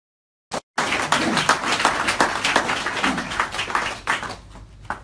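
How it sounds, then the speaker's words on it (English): An audience applauds for Peter Shaw at a OneCoin OneLife event, with a brief tap and then steady dense clapping that continues for several seconds before thinning out. "Big round of applause for Peter Shaw."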